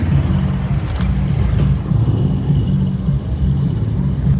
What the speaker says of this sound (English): look at this old Citroen or whatever it is